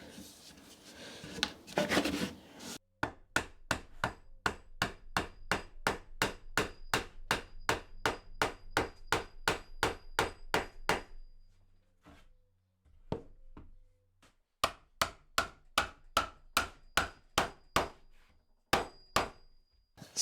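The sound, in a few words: gluing and pushing wooden stool legs into tenons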